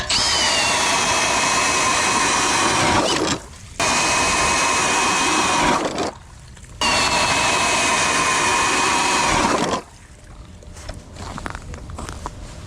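A loud motorized ice auger drilling through ice whines steadily through three long bursts, pausing between each, then cutting off to quieter rustling, in pouring rain and fog.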